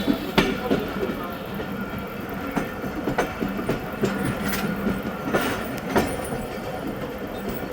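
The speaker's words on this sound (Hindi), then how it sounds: "अचानक से गाड़ी आ गई थी सामने" Khyber Mail train running on rail track, with a steady rumble and repeated clickety-clack wheel beats over the joints, loud and close throughout, with some faint voices mixed in.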